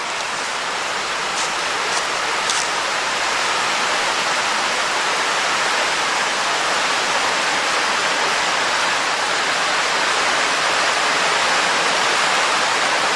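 A small waterfall rushes in a continuous, dense, hissing wash of water at close range near Saint Peters Village, Pennsylvania, steady throughout with no voices.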